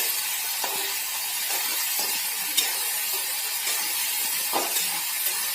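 Sliced ivy gourd (kovakkai) sautéing in an open pan, a steady sizzle and hiss with occasional soft scrapes and clinks of a stirring spoon against the metal.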